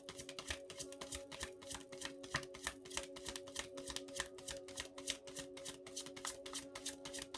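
Tarot cards being shuffled in a continuous, rapid riffle of crisp papery flicks, close and steady throughout with no talking.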